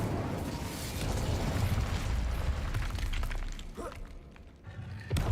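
A fire spell goes off in a Hogwarts wizard video game as a dense, roaring burst of crackling, rumbling flame that fills the soundscape for several seconds, then thins out into scattered crackles.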